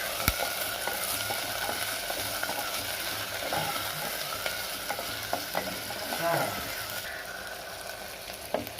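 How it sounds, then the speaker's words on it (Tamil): Dried fish sautéing in a pan for Kolli karuvadu kulambu, a steady hissing sizzle running throughout with occasional scrapes and clicks of a spoon stirring close by, no voices. "அந்த கருவாடை இதோட சேர்த்துடலாம். கருவாடு நல்லா வதங்கட்டும்"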